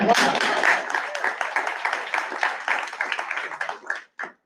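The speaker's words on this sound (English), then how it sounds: "One more round of applause" Applause from an audience at a Board of Education meeting, a dense patter of many hands that holds steady and then thins out and stops near the end.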